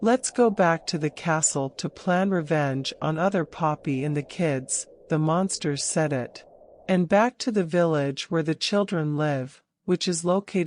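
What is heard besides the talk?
No everyday noises stand out.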